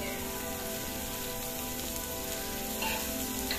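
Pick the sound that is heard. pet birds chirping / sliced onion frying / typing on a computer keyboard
sliced onion frying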